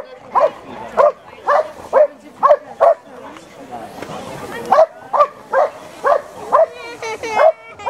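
A dog barks repeatedly at an outdoor parish festival, about a dozen short, evenly spaced barks, loud and near, with a brief pause in the middle and some background noise between them.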